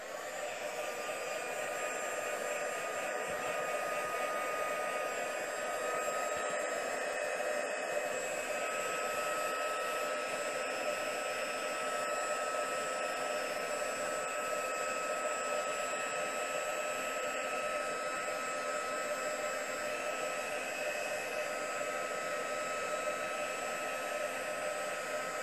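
A heat tool blows a steady, even whoosh for about twenty-five seconds, unbroken and close, as it melts embossing powder over an ink-sponged card background.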